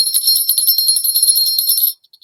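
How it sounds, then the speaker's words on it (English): Brass sleigh bell made for horse sleighs, shaken in a steady bright jingle for about two seconds, close and fairly loud, then a few faint stray tinkles. "brass sleigh bell. They really are, they are for horse sleighs."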